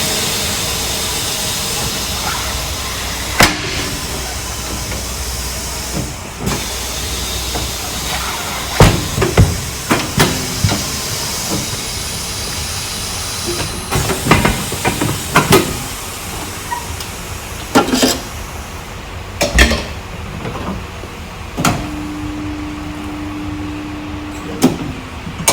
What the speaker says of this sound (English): we'll break the bead and change the tyre over.